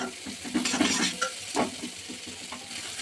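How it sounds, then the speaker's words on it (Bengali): Chow mein being tossed into a wok with fried potatoes and onions, a soft sizzle broken by a few scraping stirs of a spatula, close by. "আলু পেঁয়াজ সব ভাজা হয়ে গেছে, এবার চাউমিনটা অল্প অল্প করে দেবো আর মিক্স করবো।"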